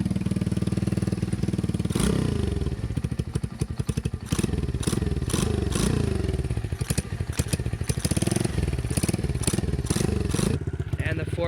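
A stock Chinese pitbike engine runs close and loud, its note repeatedly rising in sharp revs toward high rpm and dropping back, with a steady mechanical rattle throughout.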